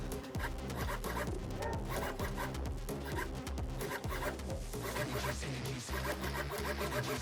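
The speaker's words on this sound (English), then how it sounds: "pop up and down headlight, pop up and down" A small servo whirs and buzzes in short repeated bursts, raising and lowering DIY pop-up headlights on a Kyosho Fazer D2 RC drift car, close up with scraping mechanical textures.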